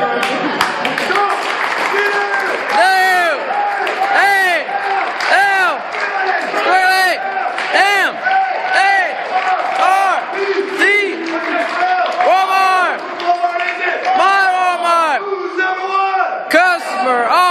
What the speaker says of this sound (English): We're gonna have Bob do us our last Walmart cheer